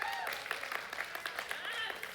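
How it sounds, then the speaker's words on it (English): A high-school church audience claps in a large hall, a dense continuous wave of applause with scattered cheers and whistles. A voice talks over it. "While you guys are clapping,"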